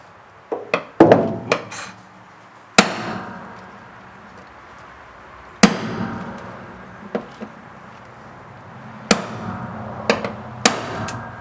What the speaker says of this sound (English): if we hit it here with a chisel, it should like just twist out